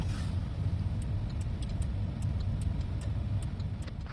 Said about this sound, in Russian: мы видим, что аварийная сигнализация мигнула 4 раза